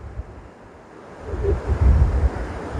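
Water rushes from the opened valves of the Banabuiú reservoir dam as a steady broadband roar that swells louder toward the end, with rumbling low turbulence and wind buffeting the microphone.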